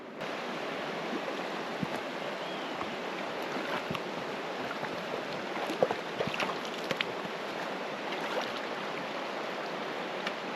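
Steady watery splashing and trickling, close and continuous, as water drips and runs out of a cheap LED light bar after an hour submerged, with a few sharper drops standing out.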